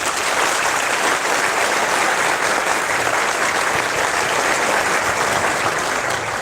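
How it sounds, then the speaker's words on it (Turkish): Loud, dense audience applause fills the hall at a municipal event in Istanbul honoring public transport workers, a steady wash of clapping hands sustained evenly throughout without pause. "Belki ikinci defa alkışlayacaksınız ama hak eder."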